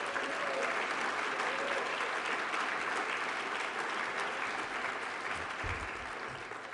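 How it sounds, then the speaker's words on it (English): Sustained audience applause fills a plenary session hall at the Good Jobs, Green Jobs Midwest conference, a dense, steady clapping that holds throughout and eases slightly toward the end. "Let's give them another round of applause."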